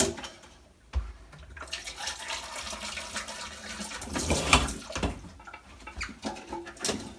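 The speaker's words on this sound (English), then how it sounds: "Handy dandy funnel. So pour it down." Liquid poured from a jug through a funnel, a steady splashing trickle that rises into a louder gush partway through before easing off, close by with no talk.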